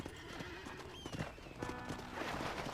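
Horse hooves in Red Dead Redemption clip-clop at a steady trot over a rumbling background, with a faint whinny mixed in.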